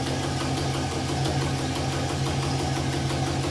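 A K5 Blazer engine with chrome headers and HEI ignition idles steadily with a low, even rumble and faint rhythmic knocking, close and continuous with no voices.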